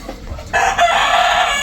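Adler chickens cluck and a rooster crows close by and loudly, one sustained call following a brief lead-in.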